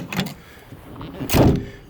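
A van door, recently adjusted, is shut firmly, with a rattling movement followed by a solid, heavy thud close by; the whole sound lasts under two seconds.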